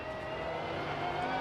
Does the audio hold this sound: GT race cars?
yes